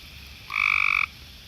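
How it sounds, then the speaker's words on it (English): A single frog call rings out, a brief buzzy croak lasting about half a second over faint night-time background noise. "But right there is a calling frog of some sort."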